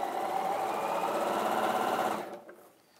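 A sewing machine stitches a quilt in a fast, even mechanical patter at close range for about two seconds, then halts abruptly into near silence.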